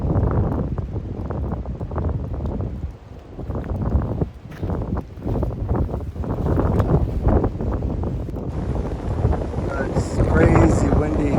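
Strong wind roars steadily and buffets the microphone on the Appalachian Trail, a constant heavy rush with gusts and no voices.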